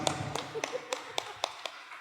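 Sparse, scattered hand claps from a small church congregation during a Sunday service, a few close sharp claps spaced irregularly and fairly quiet overall.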